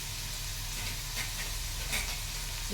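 Green chilies drop into onions frying in a pan, producing a soft, steady sizzle and hiss that stays quiet and even throughout, with no voices.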